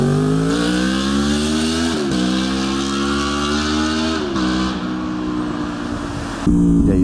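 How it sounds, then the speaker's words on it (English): Honda VFR800 V4 engine revving hard as VTEC engages near 7000 RPM, a loud sustained rising drone with a few brief dips and an abrupt shift in tone near the end. "That was the VTEC kicking in"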